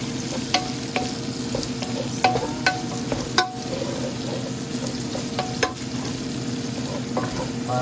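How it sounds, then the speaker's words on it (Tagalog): Meat sautés in a pan for dinner, giving a continuous crackling sizzle broken by repeated sharp scrapes and clinks of a spatula stirring. The sounds are close and there is no talking. "Sinangkot ko muna yung ating karne."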